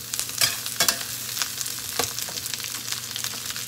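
Vegetables and cabbage sizzle in two tablespoons of hot oil for chow mein, with steady frying hiss and several sharp stir-and-toss clatters of the spatula, close and alone.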